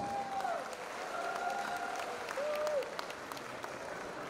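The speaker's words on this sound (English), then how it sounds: "let's give them a round of applause" Applause from the audience at the Miss Tourism International world final night, a faint, distant wash of clapping for the delegates, with a sustained tone sliding through it.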